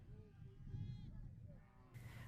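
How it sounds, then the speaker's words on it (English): Sheep bleat with a few other livestock sounds, out in the open countryside near the Igombe crater in Meru County, Kenya; wavering mid-distance calls over a steady, low-rumbling background. "The bleating of the sheep and sounds of other livestock suddenly fills the air"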